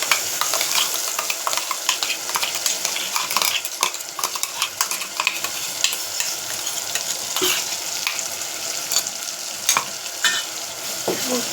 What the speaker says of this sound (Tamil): 1 நிமிஷத்துக்கு நல்லா அது வதங்கி வரட்டும்